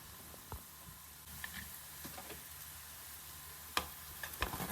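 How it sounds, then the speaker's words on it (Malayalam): Crushed ginger and garlic are sautéed and stirred in a pan, with a soft, quiet sizzle under a scattering of sharp ticks and scrapes from the stirring spoon, and no voices. "ചതച്ച് വെച്ചിരിക്കുന്ന ജിഞ്ചറും ഗാർലിക്കും നമുക്കിതിലേക്ക് ഇട്ട് കൊടുക്കാം അതിൻ്റെ പച്ച മണം മാറുന്നത് വരെ ഇളക്കി കൊടുക്കാം"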